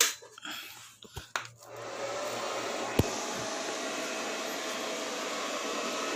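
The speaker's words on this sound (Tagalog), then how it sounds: "Bali ito, nakasaksak na yung welding machine. Buhayin natin." A welding machine powers on with a few clicks and thumps, then settles into a steady loud broadband hum and fan whoosh that runs continuously at close range, no speech.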